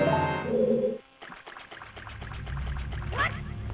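A bottle of water poured out in Zelda: Majora's Mask, a gurgling, trickling game effect with a short rising glug near the end, preceded by a louder musical tone.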